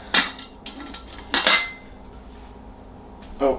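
A backpacking stove and gas cartridge are nested inside a metal cook pot, producing three sharp metallic clanks and knocks spaced over a few seconds, close by, with quiet pauses between them.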